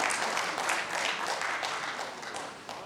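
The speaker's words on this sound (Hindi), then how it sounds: "एक बार जोरदार तालियां निधि दीवान जी के लिए।" Audience applause for actress Nidhi Diwan after a stage play at a theatre festival, a dense, steady wash of clapping held throughout and easing slightly toward the end.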